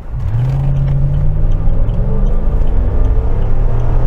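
A Land Rover Discovery 3 fitted with a swapped Toyota 2UZ V8 accelerates, its loud engine note climbing steadily in pitch as it pulls, with no talking.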